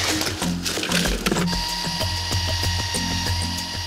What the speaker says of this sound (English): The drilling has started, so the tiny microchip can be placed in the horn.